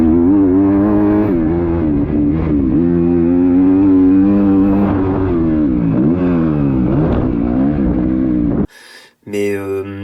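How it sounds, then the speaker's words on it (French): Motocross motorcycle engine on a rutted training track revs loudly and up close, pitch rising and falling repeatedly as the throttle works, with a brief cutoff near the end. "La moto elle gueulait mais elle partait pas"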